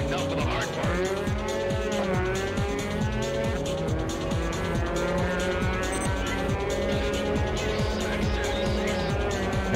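Race car in R: Racing Evolution braking hard, with a loud, steady engine drone, rising and falling gear whines and tire squeal running throughout.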